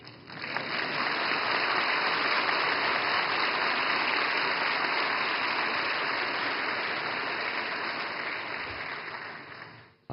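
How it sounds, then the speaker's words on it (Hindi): Loud, sustained applause from a large audience at the Reserve Bank of India's 90th anniversary event, dense continuous clapping for about ten seconds that fades out toward the end. "और मुझे खुशी है कि सबसे ज्यादा तालियां इस बात पर पड़ी"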